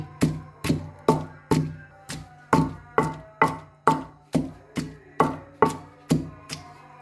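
Green chillies are pounded for a radish chutney, fourteen steady, evenly spaced thuds striking close and sharp, each with a short ringing decay, alone without talk.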